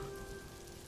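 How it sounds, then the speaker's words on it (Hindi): Steady rain falls at night during a storm, a soft, continuous hiss of drops heard faintly and evenly throughout, with a low hum underneath and no voices. "हम इस बारिश में बहुत मुसीबत में हैं।"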